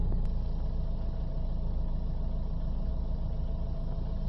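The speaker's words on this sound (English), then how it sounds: "we're just getting a bit of engine RPM increase now" A Mitsubishi L200 Triton diesel engine runs at a steady, slightly raised idle during a forced DPF regeneration, giving an even, close mid-low rumble with no clear change in pitch.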